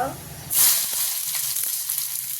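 A loud sizzle erupts as onion hits a hot pan, settling into steady crackling frying with a few soft stirring knocks.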